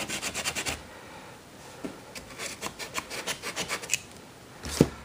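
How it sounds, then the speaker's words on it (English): Hand sanding of soft material for an Imperial playset build, a steady run of rhythmic rasping strokes, close and clear with no talking, plus a couple of sharper scrapes near the end. "Sand it off a little bit."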